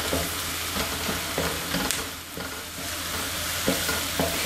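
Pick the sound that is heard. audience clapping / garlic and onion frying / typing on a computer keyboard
garlic and onion frying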